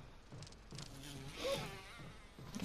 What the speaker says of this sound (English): I piss off bees.